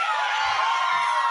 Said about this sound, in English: People clapping for Jesus Christ on a college campus